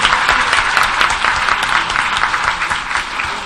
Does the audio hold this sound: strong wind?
no